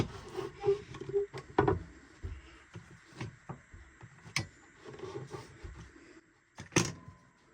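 Fine shavings pared from the end grain of a wooden seven-string lyre head with a hand plane, heard as several short rasping strokes at close range with faint handling knocks between them.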